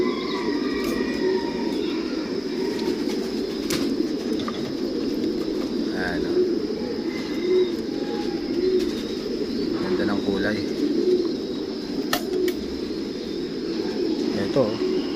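Racing pigeons in a breeder loft give soft, repeated throaty coos, close by and overlapping in a steady murmur, with someone talking over them now and then.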